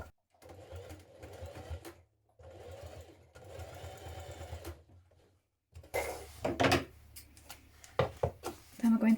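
Sewing machine stitching a jean jacket seam: two steady mechanical runs of needle chatter, then clattery handling noises and clicks, close and moderately quiet.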